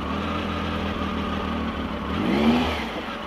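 A motorcycle pulling away from a petrol station: steady engine drone that rises in a short rev near the end, fairly loud and close, with no talk.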